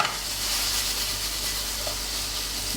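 Lardons sizzling in a hot pan as the bottom is scraped while cooking a filling for quiche Lorraine, a steady close hiss of frying with a faint scrape, no voices.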